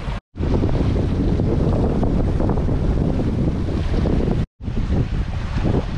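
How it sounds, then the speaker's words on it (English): Strong wind roars steadily across the microphone on a sailboat running on a broad reach, with water rushing around the hull in continuous loud gusts and two brief cutouts. "Wind's actually picking up, it's coming more on the more of the broad reach."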